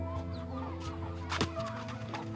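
Chickens kept on a small farm in rural Kenya cluck steadily in a close, busy chorus, with a sharper squawk standing out partway through and a low hum running underneath.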